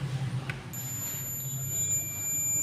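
A multimeter in continuity buzzer mode beeps with a thin, steady high tone while a laptop motherboard is probed for a short, set against a low background hum.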